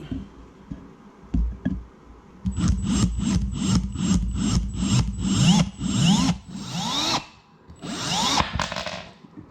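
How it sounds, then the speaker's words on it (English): A power drill whirs in a series of short, repeated bursts as it bites into wood, each pulse rising and falling, close and fairly loud. "I'm just going to slowly drill."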